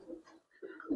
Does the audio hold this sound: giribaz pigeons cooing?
yes